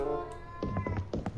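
Cat meowing in the video game Mini World, a short run of quick, close meows over a steady game background sound.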